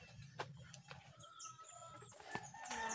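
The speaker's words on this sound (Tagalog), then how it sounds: "Yan, mga manok ko." Backyard chickens, hens and a rooster, cluck and call near a wood-fired cooking spot, short rising vocal notes scattered over about three seconds amid faint clatter.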